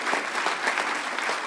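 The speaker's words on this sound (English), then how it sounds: "Quick round of applause for them for providing gifts to the volunteers." An audience at a hacker conference's closing ceremony claps to thank volunteers, producing a steady, dense wash of applause from a large crowd that holds at an even level throughout, with no speech over it.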